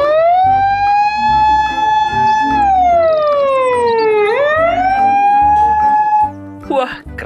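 A toy police car's electronic siren wails loudly in long rising and falling tones, dipping and climbing once before cutting out into a few short clicks and bumps.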